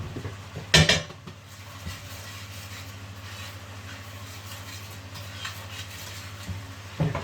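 Cream sauce being stirred in a pan, with a sharp clink of a utensil against the pan near the start and quiet, steady stirring over a low kitchen hum afterward.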